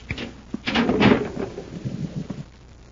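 A concealed door opens in a radio drama, a rumbling, scraping movement lasting about two seconds with creaks and knocks, moderately loud over a faint room hiss.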